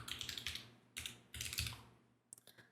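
Bursts of quick keystrokes on a computer keyboard as a name and email are typed into form fields, close and crisp with short pauses between bursts.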